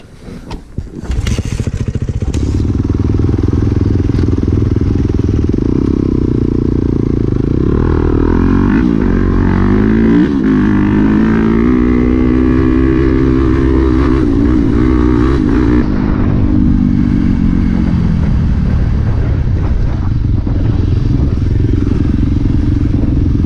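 Dirt bikes fire up and pull away nearby, engines revving loudly and rising in pitch as they accelerate, with a sustained roar filling the whole stretch.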